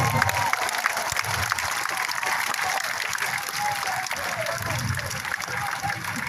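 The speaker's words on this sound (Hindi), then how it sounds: "जोरदार ताली बजाइए।" A crowd at a Jan Suraaj political gathering in Bihar claps continuously in steady, dense applause that holds at the same level throughout.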